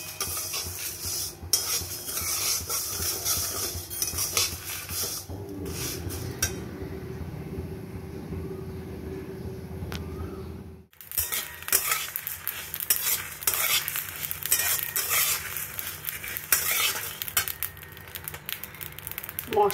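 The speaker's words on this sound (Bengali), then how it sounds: "মশলাগুলো প্রথমে আমি একটু কড়ায় নেড়ে নেব।" Spices and dried chillies are stirred and dry-roasted in a wok, a long stretch of rattling, scraping spatula strokes and light sizzle, with a brief quieter pause in the middle before the busy stirring resumes, close up.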